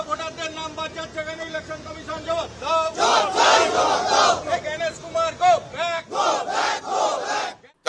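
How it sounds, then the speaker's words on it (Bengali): A crowd of Trinamool protesters holding placards and black flags at a gas price protest chants go back slogans outdoors, loud rhythmic call-and-response shouting with many voices joining in repeated bursts. "প্ল্যাকার্ড, কালো পতাকা হাতে গো ব্যাক স্লোগান ওঠে।"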